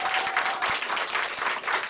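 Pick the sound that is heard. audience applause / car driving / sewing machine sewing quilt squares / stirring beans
audience applause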